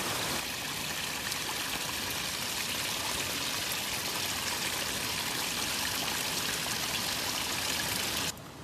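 Rainwater after days of heavy rain flowing out of a rice paddy into a small ditch, a continuous even rushing and trickling of water that holds steady before cutting off abruptly at the end.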